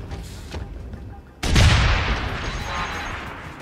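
A grenade launcher in the video game Deus Ex: Human Revolution fires with a sudden heavy boom, followed by a rumbling blast that decays slowly over quiet game background.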